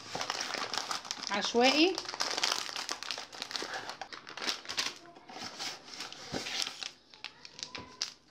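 Plastic packaging of a Luqmat al-Qadi dessert mix crinkles and rustles in close, loud bursts as the bag is handled, with a brief spoken word partway through.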